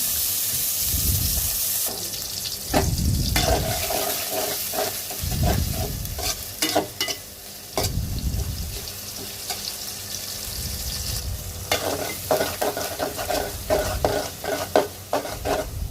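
Onions fry in oil in a pan with a steady close sizzle, broken by repeated scraping stirs of a spatula throughout.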